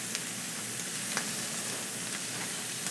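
Octopus sizzling on a grill under a kitchen hood in South Philly, a steady close hiss of frying with small crackles and pops throughout, no voices.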